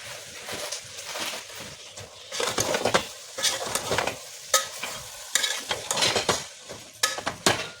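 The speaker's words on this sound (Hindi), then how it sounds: "ये पाव भर सोया मेथी थी, इसको अच्छे से भून लेंगे" Dill and fenugreek greens being stirred and fried with peas and minced meat keema in a pan, a soft sizzle under repeated scraping strokes of a spoon, rhythmic and close, with no talking.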